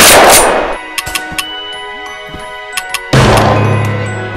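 Pistol shots in the Gorilla Tag VR game ring out as a few sharp, bright cracks with metallic pings in between, loud and close over a humming game backdrop.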